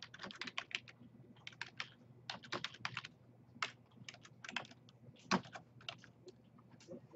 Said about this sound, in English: you can type up above or type down below on the blank